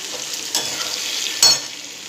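Chicken pieces frying in oil in a pan for chicken kosha, a steady close sizzle with two brief bursts where the pieces are stirred or moved.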